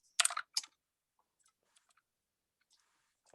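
Fingers type on a computer keyboard in a quiet room: a quick burst of two or three loud clicks, then a few sparse, faint taps.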